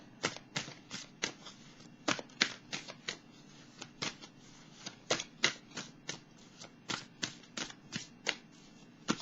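Tarot cards riffled and shuffled in a rapid run of crisp, papery snaps before one card is drawn from the deck, close and steady with no voice over it.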